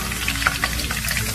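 Cumin seeds frying in hot oil in a pan, a steady close sizzle with small crackling pops throughout, alone without talk.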